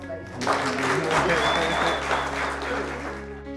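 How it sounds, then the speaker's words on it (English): Wedding guests break into applause after the bride's vows, a dense burst of clapping that swells quickly and holds steady before easing off, with music and voices underneath. "I think a round of applause"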